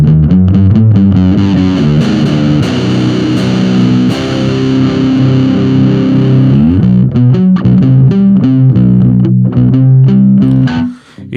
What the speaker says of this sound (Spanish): es una distorsión que si la mantienes un poquito bajita de ganancia, suena